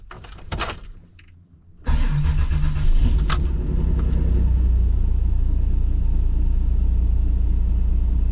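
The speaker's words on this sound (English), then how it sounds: "that beautiful V6 Buick" A Holden Ute's Buick V6 starts with a brief crank and key jangle, then settles into a steady, loud idle. The engine rumbles on close up with no one talking.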